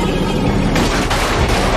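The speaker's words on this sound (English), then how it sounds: "Fire the EMP torpedo!" An EMP torpedo firing in a cartoon: a short burst of crackling, booming sound-effect noise with a couple of sharp surges, loud and dense throughout.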